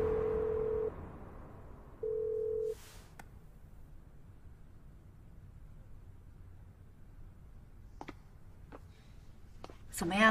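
A phone call rings out unanswered: two steady dial-tone beeps sound near the start, followed by near silence with a few faint clicks.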